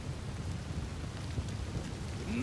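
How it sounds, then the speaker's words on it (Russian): Rain falls steadily in the Desperados 3 video game, a continuous hissing patter with a low rumbling undertone, moderately quiet and uninterrupted, with no voices. "Проклятый дождь во всем виноват."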